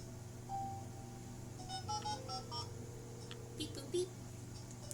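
A run of quick, faint electronic dialing beeps from a telephone in a point-and-click detective video game, sounding under a steady game background hum with a player talking.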